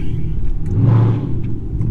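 A Chrysler 300C's V8 engine revs up and settles back over a steady low rumble, loud and close, with no talking.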